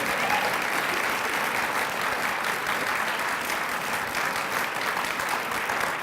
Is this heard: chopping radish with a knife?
no